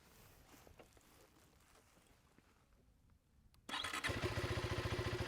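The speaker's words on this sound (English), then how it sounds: "One touch and the motorcycle fires up." A 2025 KTM 390 Adventure motorcycle is started with the starter button. After a few seconds of quiet background, the engine fires up abruptly and settles into a loud, steady, throbbing idle close by.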